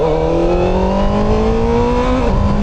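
A CF Moto 500SR motorcycle's engine revs steadily higher while riding, its droning tone climbing for about two seconds before dropping sharply at a gear change, loud and close throughout.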